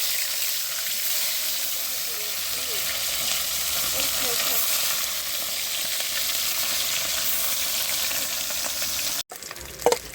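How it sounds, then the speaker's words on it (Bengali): Fish sizzling and frying in hot oil in a pan, a steady loud crackle throughout, with a brief stir or clatter near the end. "তেল গরম হয়ে গেছে, এবার মাছগুলো ছেড়ে দেব।"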